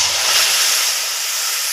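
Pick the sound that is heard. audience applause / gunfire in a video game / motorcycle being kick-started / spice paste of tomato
spice paste of tomato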